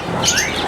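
Java sparrows chirp in quick, high twittering notes, several voices overlapping close by in a brief burst.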